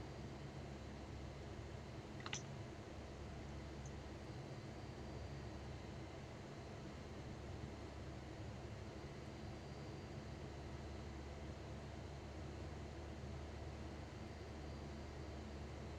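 A propeller aircraft engine in Microsoft Flight Simulator 2020 hums in a faint, steady, unbroken drone, with a brief click near the start.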